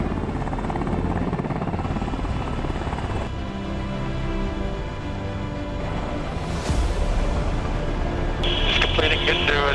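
UH-60 Black Hawk helicopter lifting off in an autonomous takeoff, its steady loud rotor and turbine roar continuous throughout, with a brief electronic beeping near the end.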